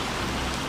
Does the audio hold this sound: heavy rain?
yes